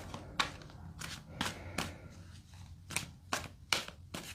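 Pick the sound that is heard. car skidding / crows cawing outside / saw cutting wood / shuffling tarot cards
shuffling tarot cards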